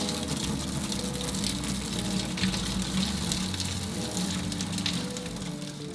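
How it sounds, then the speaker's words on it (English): Water from boiled sweet potatoes pours out of a pot into a sink, a steady rushing gush with a light sizzling hiss that continues evenly throughout at close range. "we gotta drain the water."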